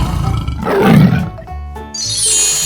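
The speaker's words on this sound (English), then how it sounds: "Tiger." A cartoon tiger gives a loud, swelling roar that peaks mid-clip, then gives way to bright chiming tones near the end.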